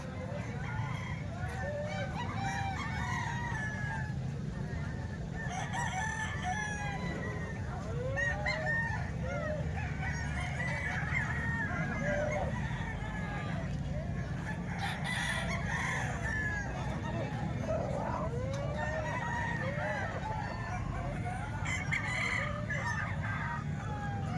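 At a Calumpit live-chicken market on selling day, many roosters crow one after another while hens cluck nearby, a dense, ongoing chorus with people talking in the background.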